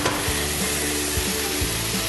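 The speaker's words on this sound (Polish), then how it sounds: "i smażymy jeszcze trochę." Steady close sizzling of carrots with honey frying in a pan, with a few soft scraping stirs at regular intervals.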